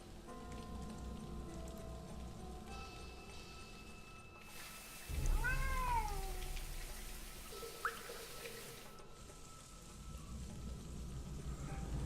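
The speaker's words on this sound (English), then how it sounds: "Oh, and there's a cat." In the Lost Horizon video game, a cat gives a single rising-and-falling meow over a quiet ambient background with light rain-like patter.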